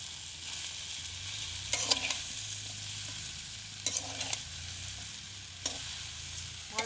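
Elephant apple pickle being stirred with sugar in a pan, a soft low sizzle with a few sharp scraping stirs spaced about two seconds apart, quiet and close, no voices.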